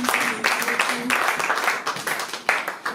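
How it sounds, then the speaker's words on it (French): A church congregation bursts into applause during a worship service, dense clapping rising and fading in waves with a voice speaking over it, near and fairly loud. "Nous acclamons pour la parole de Dieu"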